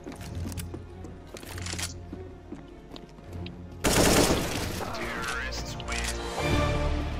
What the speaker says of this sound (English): There's gunshots being fired.